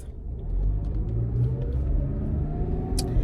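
A car engine rumbles and revs low under acceleration, with faint chirping squeaks reported each time the gas is pressed; the sound is steady and close, with a brief brighter burst near the end.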